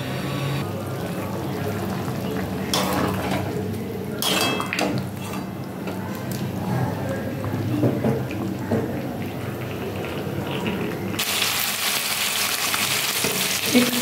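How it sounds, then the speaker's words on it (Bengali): Fish fry in oil with salt and turmeric, a soft continuous sizzle broken by the clatter of pots and utensils close by, ending in a brighter burst of frying. "এখানে আমি তেলের উপরে লবণ হলুদ দিয়ে মাছগুলো ভাজছি"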